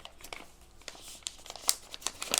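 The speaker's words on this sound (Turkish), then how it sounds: "Zarfı açalım hemen." Crinkling of a paper envelope being opened from a LEGO Jurassic World Raptor & Titanosaurus set, with scattered close crackles and short tearing bursts growing louder toward the end, no talk.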